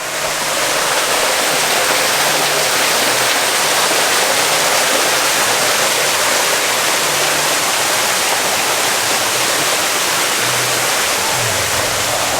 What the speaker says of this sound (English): So these waterfalls and this really cool little area when you first come into Animal Kingdom Park